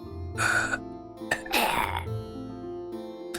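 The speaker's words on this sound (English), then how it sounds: "He coughs loud and dies." Two harsh, raspy coughs from a dying character in a roguelike video game burst out loudly, separated by a pause, over a steady low musical drone.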